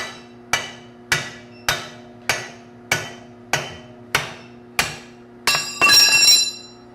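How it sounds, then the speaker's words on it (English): A hammer knocks a key out of a forging V-block in a blacksmith shop. About nine evenly spaced, sharp ringing metal blows sound up close, each with a short decay, ending in a louder burst of metallic clatter. "So I'm gonna go ahead and knock this key out because I don't need this V-block anymore."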